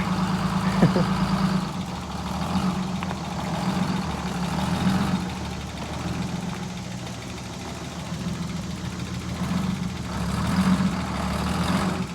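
An old bus engine rumbles and idles steadily with a low, knocking drone, holding fairly constant with slight swells in loudness.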